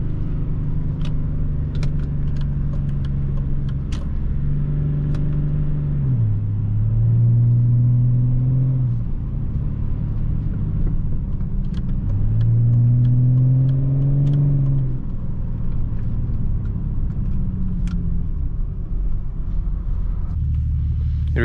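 Straight-piped 184 HP BMW 730d E38 diesel heard from inside during city driving on winter tires, a loud droning exhaust rumble rising and falling through repeated gear changes, with brief clicks and ticks over it and no talk.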